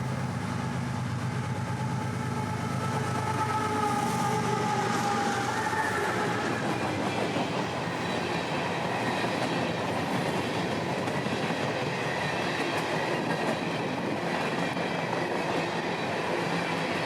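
CSX work train WO89 made up of Herzog cars heading north passes near, a sustained rumble of rolling cars with clickety-clack and a brief horn-like tone early on, steady and fairly loud throughout.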